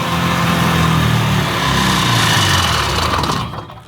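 A mini tank's engine runs at high idle, a loud, steady, buzzing drone close by that holds evenly before dropping away at the very end, with no talk.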